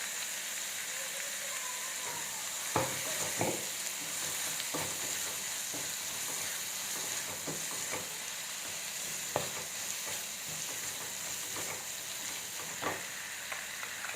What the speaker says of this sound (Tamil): நல்லா ஃப்ரை ஆகட்டுங்க.